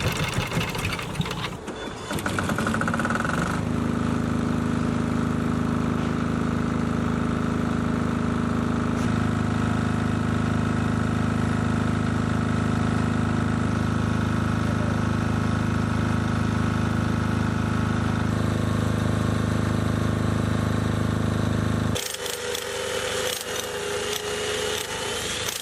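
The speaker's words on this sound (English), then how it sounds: "Then turn the key switch to off to shut down the generator." A BISON generator engine runs loud and close with a steady droning hum, steps to a slightly different pitch partway through, then cuts to a brief rattle near the end.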